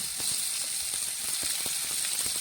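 Slices of lotus root fry in hot oil, giving a steady bright sizzle and hiss with scattered small pops and crackles throughout, close and fairly loud.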